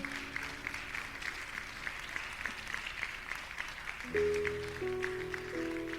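Steady applause from a church congregation after a sermon, broad and sustained, with music swelling in partway through.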